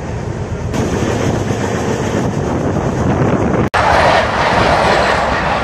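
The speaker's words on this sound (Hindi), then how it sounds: "अभी जो गाड़ी है राजा बांध से क्रॉस कर रही है" Purvanchal Express train running past a small station, loud continuous clickety-clack and rumble of wheels on rails with heavy wind buffeting, a brief sharp dropout near the end, no talk.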